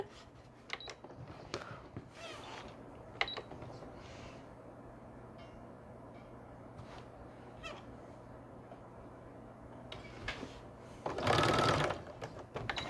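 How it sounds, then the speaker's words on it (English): Faint, intermittent mechanical whirring and clicking of a sewing machine stitching quilt fabric corner to corner in short bursts, with a louder rattling run near the end in a quiet room. "Sewing from corner to corner, corner to corner."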